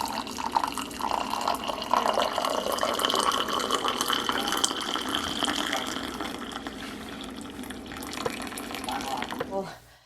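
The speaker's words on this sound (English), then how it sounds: "I'm gonna pour the tea." Tea poured from a plunger pot makes a steady liquid splash and trickle that runs for about ten seconds and then stops abruptly.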